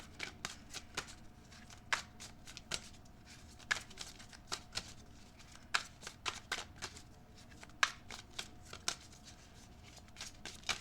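Tarot cards shuffled by hand in repeated quick riffles and snaps, soft and close, with a steady irregular rhythm and no voices.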